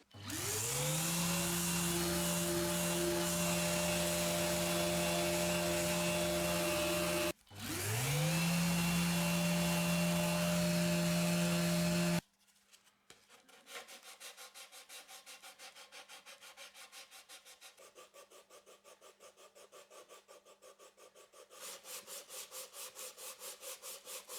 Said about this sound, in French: Maintenant qu'on a ça, on peut poncer.